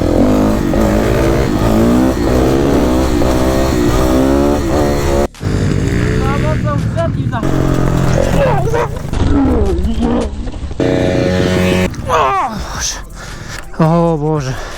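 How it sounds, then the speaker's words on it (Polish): An enduro motorcycle at an off-road training camp starts and revs hard, loud and close, its engine pitch rising and falling in repeated blips with a brief cut midway; voices can be heard near the bike. "Odpal ten motor"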